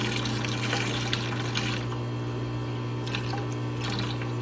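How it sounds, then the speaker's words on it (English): Fresh water runs into a container of fish from a new fishroom, a continuous splashing trickle with a steady low hum beneath and small bubbling spikes, close by and without talk. "Just flushing out the water that they're used to, getting them used to my water."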